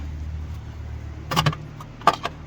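Plastic headlight cover being peeled off a BMW E92 N43 during a bulb replacement, giving two short, close crackling pops about a second apart over a low steady hum.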